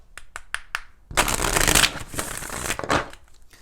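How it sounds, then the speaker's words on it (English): Tarot cards are shuffled by hand for a love reading, with a few quick taps and flicks, then a dense riffling burst lasting about two seconds and a final shorter riffle, all close and crisp. "Let's go ahead and do 4 shuffles"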